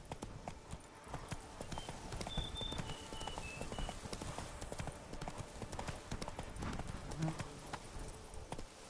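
Horse hooves galloping in The Witcher 3, a quick rhythmic clip-clop that stays steady and fairly near under faint ambient game sound, with brief voice fragments.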